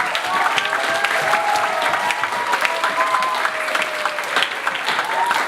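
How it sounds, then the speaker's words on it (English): Loud, steady applause from a school talent show audience for a teacher after a music performance, with cheering voices and a few whistles mixed into the continuous clapping. "Can we give a round of applause to Miss Fountain, please?"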